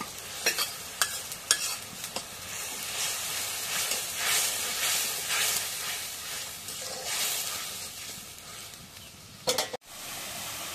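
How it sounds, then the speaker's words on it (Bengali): Salt, turmeric, cumin paste and garlic paste sauté in a pan in a rural home kitchen. A continuous sizzling hiss swells and fades, and sharp scraping stirs land near the start and again near the end, with no voices. "এখন মশলাটা কষে নিয়ে গেছে"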